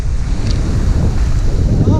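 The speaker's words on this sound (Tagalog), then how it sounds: "Maalon." Rough sea waves churn under steady wind buffeting the microphone on the coast at Infanta, Quezon, a continuous loud rumbling wash with no pauses.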